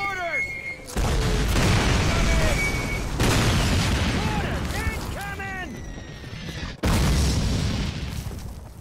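Mortar explosions in the Call of Duty campaign mission Dawnville land as heavy, loud booms that roll into sustained rumbling blasts. A new sharp burst hits near the end, and shouted voices and whistling shells cut across the noise.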